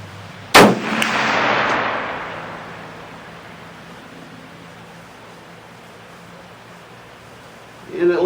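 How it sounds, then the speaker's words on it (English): A single sharp, loud shot from a Contender .300/221 pistol loaded with fast-burning powder rings out near the start, followed by a long, decaying rumble across an outdoor range, with a brief clatter at the very end. "we're shooting a fast burning powder and getting a little bit of a fireball out of it"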